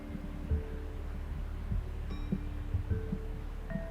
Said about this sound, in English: notice the beating of your heart